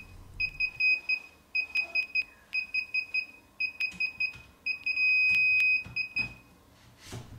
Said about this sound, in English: You will want to leave it beeping like this until the LED goes to green.